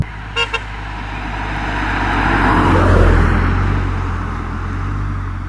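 A Volkswagen Scirocco engine swells and revs as the car accelerates hard, a broad rising roar peaking mid-clip before easing, with a couple of brief high clicks near the start.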